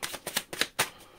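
Several quick riffling bursts of a deck of cards being shuffled, close and crisp, in an uneven rhythm with brief pauses between.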